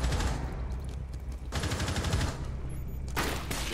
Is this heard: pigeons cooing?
no